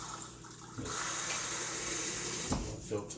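Kitchen tap water runs steadily into an emptied tomato sauce can for a rinse while picadillo is cooked, a broad continuous splashing rush with a louder surge near the end.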